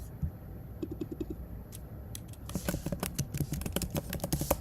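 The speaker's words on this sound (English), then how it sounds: "Well, no, I can type it." Keys on a computer keyboard are tapped in a soft, scattered patter, building into a busier run of clicks over a low background hum.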